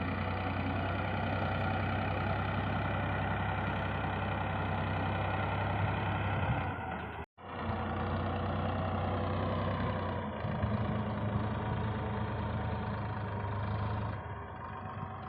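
A tractor engine running steadily with a low, chugging drone, close and continuous, briefly cut off midway before resuming.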